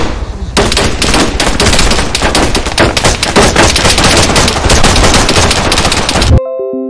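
Dense, loud automatic gunfire from a military shooter game rattles almost nonstop for about six seconds, overlapping bursts and shots crowding together before cutting off abruptly.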